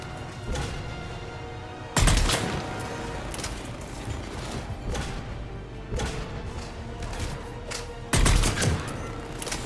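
Gunfire in the Mass Effect 3 video game, a dense continuous barrage of weapon fire with sharp louder volleys near two and eight seconds, no speech heard.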